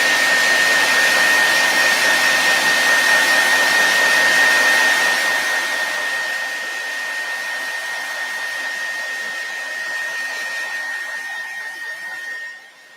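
A hair dryer blowing steadily to dry a freshly applied craft layer, a loud continuous whine with a fixed tone that eases slightly in level partway through before cutting off at the end.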